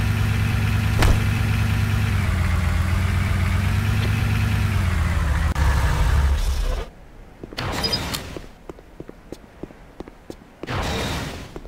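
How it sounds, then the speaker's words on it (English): A Humvee engine in Command and Conquer Renegade drives steadily, loud and close, with a low mid-range drone for about seven seconds. It then cuts to quieter game sounds with scattered clicks and short bursts. "Take the Humvee around the entire track to complete."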